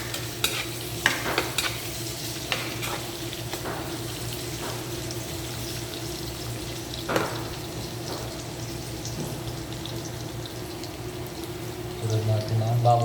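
Garlic and onion sauté in a pan for chicken adobo with liver, a low steady sizzle under scattered utensil clicks and stirring, with a voice briefly audible.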